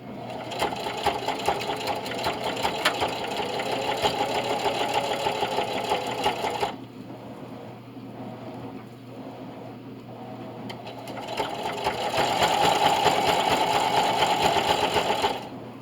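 A sewing machine stitching a zigzag on a double oven mitt hot pad runs in a steady, fast mechanical whir up close, pauses briefly, then resumes at a similar pace.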